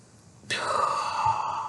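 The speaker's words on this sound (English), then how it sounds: "you don't forget to take a deep breath" A single deep breath taken slowly as a calming exercise, starting abruptly as one long, close, airy exhale with no talk over it.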